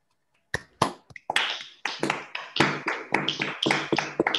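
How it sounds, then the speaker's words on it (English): A few scattered claps of thanks after a mathematics lecture: sharp, separate, close-sounding hand claps in an irregular rhythm, starting sparse and then quickening into a short flurry, with no talking. "let's all a Newton clap and thank Cosmin"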